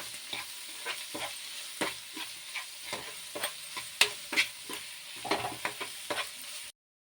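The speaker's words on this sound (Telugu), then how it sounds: "ఈ కీమా అనేది ఫ్రై చేసుకోవాలి" Chicken keema fries in a pan with a steady sizzle, broken by a rhythm of scraping spatula strokes as it is stirred, close and continuous with no talking.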